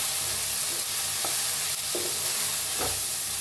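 Onion, tomato, turmeric, coriander powder and red chilli powder sizzle loudly in a pan for a ridge gourd dish, while a spoon scrapes through them in a few distinct strokes.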